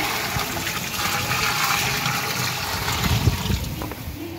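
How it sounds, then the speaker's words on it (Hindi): Water pouring in a steady gush into a large cooking pot of rice, about twelve kilos of water, a continuous splashing rush close by with faint background noise. "बाबा पानी डालने लगे हैं"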